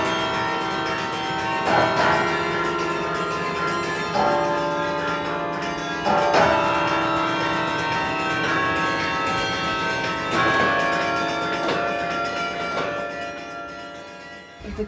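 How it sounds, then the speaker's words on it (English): The carillon bells of the UT Tower ring out a slow melody of overlapping, resonant bell strikes with long ringing decays, loud and continuous throughout. "The carillon started in the Low Countries, and it started out with just a few bells"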